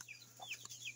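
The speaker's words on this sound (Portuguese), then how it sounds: "Aqui é o lugar que as galinhas dormem" Hens clucking softly in the coop where they roost at night, a faint brief burst of calls over a low steady hum.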